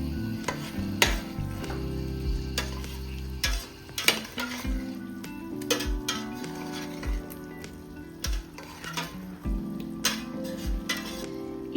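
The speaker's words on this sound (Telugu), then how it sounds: "ఇప్పుడు ఇందులో మనం పచ్చిమిర్చి, పుదీనా, కొత్తిమీర వేసి బాగా కలుపుకుందామండి." Green chillies, mint and coriander are stirred into a sizzling pan for village-style chicken biryani: a steady loud fry with repeated scraping and clanking of the stirring utensil against the pan, close up and continuous, with no talk.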